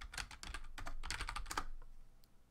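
Fast bursts of keystrokes on a computer keyboard, clattering close and clear for about a second and a half before trailing into quiet, with no speech.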